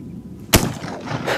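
A single sharp crack of a Smith Carbine rifle fired outdoors at a jug cuts through quiet background noise, followed by a short fading rumble of echo.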